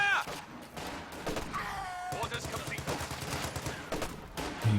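Rapid bursts of machine gun fire from 1919 riflemen in Company of Heroes 2 rattle through dense battle noise, with a voice talking over the shooting throughout.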